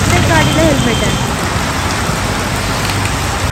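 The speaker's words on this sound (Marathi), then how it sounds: "आणि पाऊस येत होता." Steady rain pours onto a street in Trivandrum, Kerala, a loud, even hiss of drops that fills the whole stretch without a break, with no one speaking.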